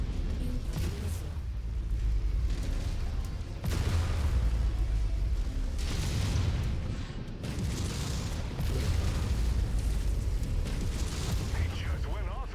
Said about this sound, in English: He just went off in here. Ammo pack ignited.